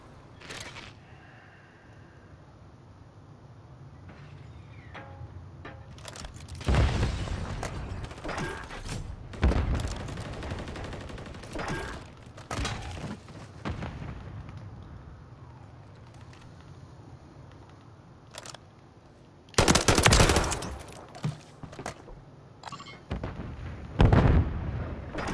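Sniper and other gunfire in ranked Call of Duty play: sharp, loud shots and bursts arrive irregularly, with a heavy double blast near the end, over a quieter stretch of game ambience.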